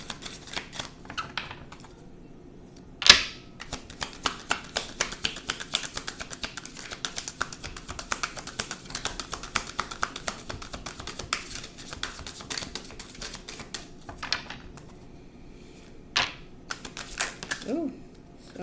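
Tarot cards riffled and shuffled by hand, a dense run of quick papery flicks and taps with a sharp slap of cards near the start and another close to the end.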